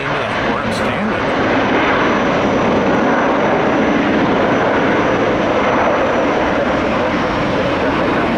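An ATR turboprop airliner at Tampa airport fills the air with a loud, steady engine roar and whine, carried toward the listener on a northeast wind, sustained without a break for several seconds.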